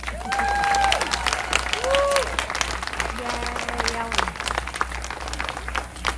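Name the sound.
applause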